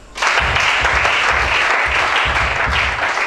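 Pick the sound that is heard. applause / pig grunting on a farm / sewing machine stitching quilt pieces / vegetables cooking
applause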